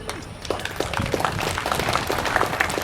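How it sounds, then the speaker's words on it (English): Audience applause at a high school groundbreaking ceremony outdoors, with a dense wash of many hands clapping steadily throughout, moderately loud and continuous, with some voices mixed in. "let's have a big round of applause for everyone that's here."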